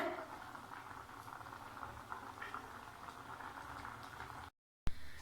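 A pot of cauliflower bubbles at a steady low simmer, soft continuous boiling with light patter, then a brief cutout and a bump.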